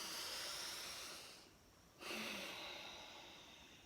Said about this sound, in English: First, let's start with 3 big oxygenating breaths.